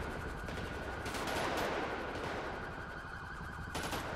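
Sustained automatic suppressing fire crackles in a dense, continuous barrage during a Rio de Janeiro police operation, with louder bursts near the start and end and no clear pauses.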